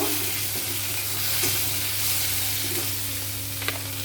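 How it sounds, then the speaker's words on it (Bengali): Chopped onions hiss and sizzle steadily in hot oil, with occasional soft scrapes of stirring over a continuous frying crackle while chilli chicken is being made. "তেলের মধ্যে পেঁয়াজ নাড়াচাড়া করে নেব"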